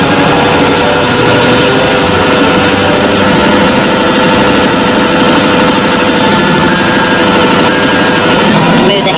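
A bulldozer's engine runs steadily and loudly with a constant mechanical drone and rattling texture while the machine travels in reverse, the noise continuous and close throughout.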